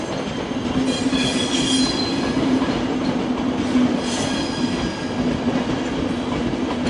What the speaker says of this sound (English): So these are your standard ÖBB intercity carriages